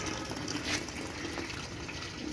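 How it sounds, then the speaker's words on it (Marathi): Water poured over plants in a home garden, a steady splashing wash that runs evenly throughout with no talk over it. "तर आता भावांना आपल्याला मस्त की झाडांना पाणी घालूया."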